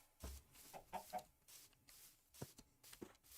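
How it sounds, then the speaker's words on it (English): Chickens clucking in a video game, a few soft intermittent clucks and squawks scattered over quiet background. "Got a few chickens roaming around the precarious edge."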